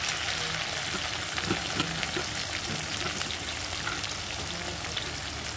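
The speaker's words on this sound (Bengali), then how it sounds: "বড় সাইজের একটা পেঁয়াজ। এটাকে ভাজবো সুন্দর করে" A large onion frying in a pan gives a dense, continuous sizzle, loud and close, with a few faint knocks underneath and no talking.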